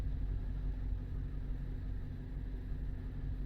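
A 2007 GM pickup truck's gasoline V8 idles in a low, steady rumble, faint and even throughout with no other sounds.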